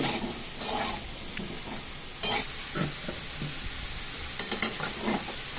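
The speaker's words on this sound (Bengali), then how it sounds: "খুব ভালো করে মশলাগুলোকে মিশিয়ে নেব সবজির সাথে।" Vegetables frying in a pan as spices are stirred in, a soft constant sizzle broken by irregular scraping strokes of a spoon, fairly quiet and close, with no talking.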